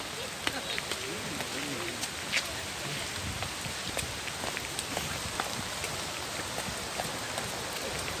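Steady rain falls on a wet, slippery road, a broad even hiss with scattered drop taps, and faint voices murmur beneath it.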